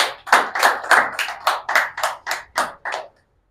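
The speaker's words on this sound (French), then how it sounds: "Est-ce qu'on peut applaudir pour nous-mêmes?" About nine slow, evenly spaced claps ring out sharply and then stop, sounding like a small group clapping together in rhythm at a public speaking session, with no talk over them.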